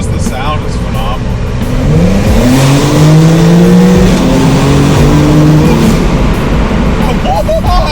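A 2024 Porsche 911 engine revs hard inside a tunnel, a loud rising and falling roar that swells through the middle and echoes, with a voice talking over it.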